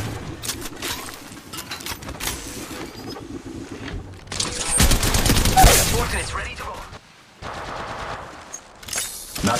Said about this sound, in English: Squad is firing at us.